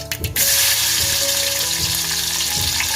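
Mustard seeds and garlic hit hot oil in a pot for tempering, bursting into a loud, sustained sizzle after a brief quieter opening, with faint stirring taps underneath.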